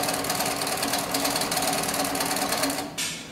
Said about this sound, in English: I'm going to go ahead and continue sewing down the piece here.